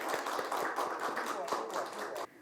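At the opening of a youth disability career education policy forum, an audience gives a moderate, even round of clapping that carries on steadily and then cuts off abruptly.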